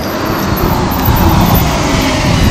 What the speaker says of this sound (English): a bus is seriously just passed right by me